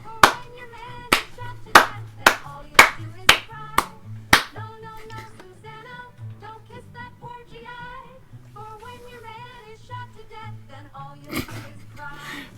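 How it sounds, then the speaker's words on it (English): A group claps along in time with a song, about eight sharp claps in a steady rhythm over the first few seconds before fading under the music. "We're clapping along, everybody."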